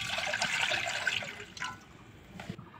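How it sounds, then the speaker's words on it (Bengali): Water poured into a wok for steaming a dish of pabda fish with mustard and poppy seed, a close, splashing gush that fades out with a couple of brief drips and clinks. "এর মধ্যেও পানি দেবো।"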